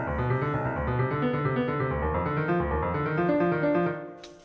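A composed musical score plays back, with layered sustained tonal harmony and a pulsing low-register rhythm, steady and moderately loud, fading out at the end.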